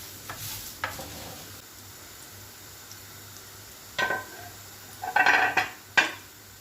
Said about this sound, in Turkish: Mücverlerim pişerken bir yandan da şurada eriştemi kavuruyorum.